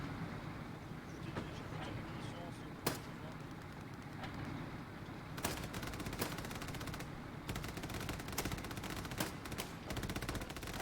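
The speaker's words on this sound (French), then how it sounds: "tu vois la mitrailleuse qui tire?" Bursts of machine-gun fire crackle amid the constant rumble of a battle in the WWII shooter Hell Let Loose, with sharp shots at about 3 and 5.5 seconds, then a dense rattling string of rapid shots running to the end.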